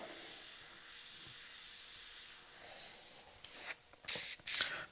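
An airbrush hisses as black and grey paint goes onto a leather saddlebag, a soft steady spray at first, then sharper short bursts toward the end, close up with no talk.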